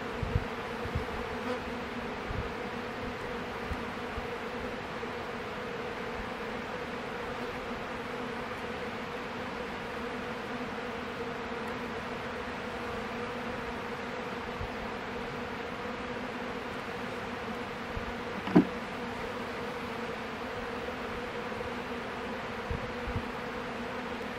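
Honeybees hum steadily around beehive frames holding the colony and its queen, a dense, even drone close by, with occasional faint knocks of frames being handled.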